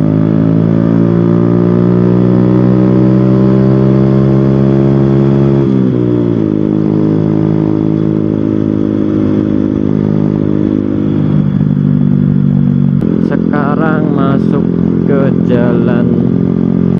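Motorcycle ridden on a city road, its steady close engine drone rising in pitch as it accelerates, dropping at a gear change and climbing again, with wind noise and a voice talking over it.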